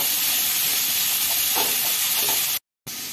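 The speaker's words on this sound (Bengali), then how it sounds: "একটু ভেজে নিয়ে একটু 2-3 মিনিট ভেজে নিয়ে তারপরে সাবু আর ডালটা দেব" Capsicum, tomato and grated coconut fry in a pan, a steady close sizzle and hiss with a few soft stirring scrapes, briefly cutting out near the end.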